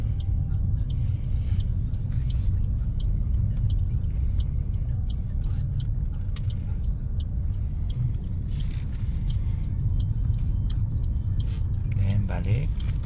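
A car engine hums at steady throttle while driving, with a dense low rumble that stays even throughout and road noise underneath. Light clicks and rattles come from the cabin, and a voice gives calm driving instructions over it.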